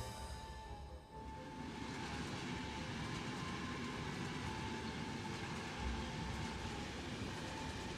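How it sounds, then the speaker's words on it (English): Steady rumble and rattle of a train in the Final Fantasy 14 video game, loud and continuous with rhythmic clatter and a faint high whine, no voices over it. "Train."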